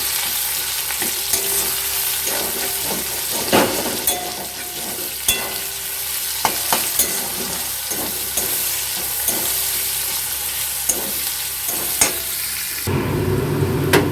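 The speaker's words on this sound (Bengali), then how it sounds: "এবার আমি পেঁয়াজ অ্যাড করব পেঁয়াজটাকে এবার ভালো মতো ভেজে নেব" Onions fry steadily in a pan for prawn pulao, a continuous close sizzle broken by frequent scrapes and clicks of stirring, with a louder burst near the end.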